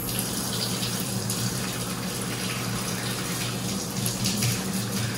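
Tap water runs steadily over mustard greens being washed in a kitchen sink, a constant close rushing splash with slight fluctuations as the leaves are handled, no talking.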